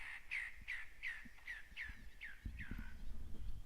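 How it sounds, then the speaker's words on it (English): A bird calls from above a rocky riverbed in Purnululu in Western Australia's Kimberley: seven harsh, descending caws in a steady series, fairly clear over low ambient rumble. "Sounds like there's a bird up there that's not happy with our presence."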